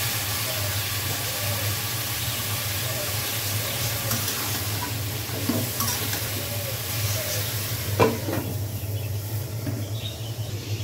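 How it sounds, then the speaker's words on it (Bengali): Ash gourd pieces drop into a pan of spice paste cooked down with cumin, chili, turmeric and salt, giving a steady soft sizzle with a few stirring clatters and occasional sharper scrapes. "এখন জালি কুমড়াগুলো দিয়ে দিচ্ছি।"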